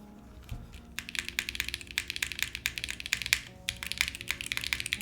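Rapid typing on a Luminkey65 mechanical keyboard, a dense run of close, crisp key clacks in uneven bursts after a quiet start, with no talking.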